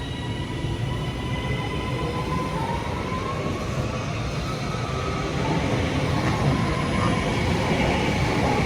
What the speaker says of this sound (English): there's a Avanti West Coast service on the opposite side going to go through